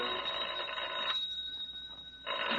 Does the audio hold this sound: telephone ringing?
yes